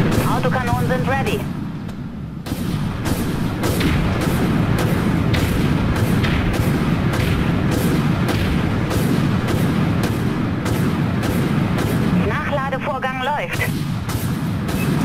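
Rapid bursts of heavy autocannon fire from the video game Dreadnought boom repeatedly and loudly, under steady engine rumble and occasional talk.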